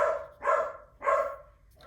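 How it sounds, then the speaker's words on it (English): Dogs bark indoors nearby, three deep barks evenly spaced about half a second apart, loud and alone with no talk. "my dogs bark again?"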